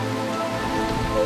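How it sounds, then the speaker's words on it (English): Artificial rain falls indoors inside Biosphere 2, a steady close patter and hiss of drops with a low hum beneath, brief and continuous. "It is actually raining indoors right now."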